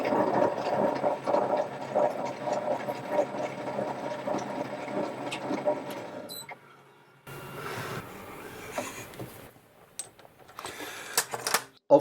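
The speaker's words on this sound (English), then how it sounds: "I've cut the thread on each side." A threading die cuts thread onto a steel screw blank for a tool clamping screw, a steady busy mechanical churn for about six seconds, then quieter, intermittent scraping and clicks as the die is reversed off the blank.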